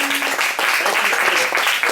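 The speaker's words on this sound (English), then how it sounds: "let's give a big round of applause" Short, lively applause from an event audience for sponsors, close clapping with a faint voice mixed in.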